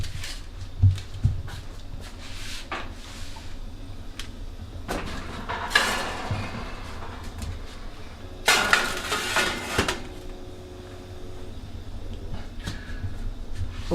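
Banana cookies on a cookie sheet going into an oven preheated to 350 degrees, with a series of metallic clanks, rattles and a door-like thud spread over several seconds, close and moderately loud, no talking.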